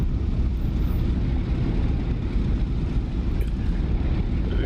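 A P-47 Thunderbolt in the DCS flight simulator taxis out, its radial engine giving a steady, loud, dense rumble that stays even throughout with no talking.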